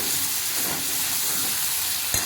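Tomato paste sizzles and fries loudly in a hot pan with spices for chicken masala, a dense steady hiss with a brief clink near the end.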